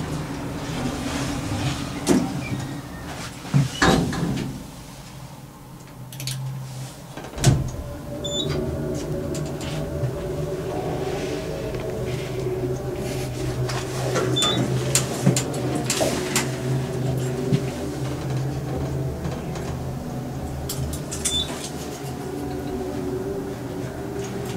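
An old Capitol elevator's door slowly closes in an office building, with scattered clunks and rattles from the door operator over a continuous machinery hum, fairly close and without talking.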